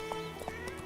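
Roach, a horse in The Witcher 3 video game, gives brief whinnies over a few soft hoof clip-clops, close and moderately loud, under a steady game background.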